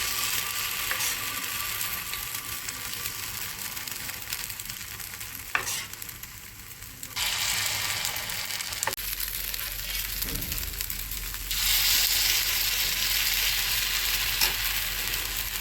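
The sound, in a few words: semolina appam batter sizzling in the appam pan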